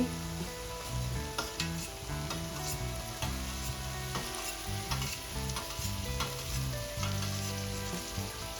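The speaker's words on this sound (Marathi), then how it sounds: "आपल्याला शिमला मिरची पण छान परतून घ्यायची आहे सॉफ्ट होईपर्यंत" Capsicum sautés with onion and tomato in a pan for pav bhaji, giving a steady close sizzle and frying crackle broken by repeated scraping stirs of a spatula, with no talking.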